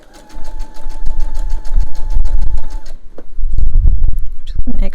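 A sewing machine stitches fabric for reusable not-paper towels, running in a fast, steady mechanical chatter that stops briefly and starts again, loud and close, with a voice talking over it.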